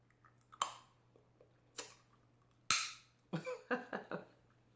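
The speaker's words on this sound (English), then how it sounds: "There's only one way to eat a sunflower, and that's to just crack it open" Salty sunflower seeds are cracked open and chewed up close, with a few sharp single cracks followed by a quick cluster of crunchy chewing snaps, alone in a quiet room.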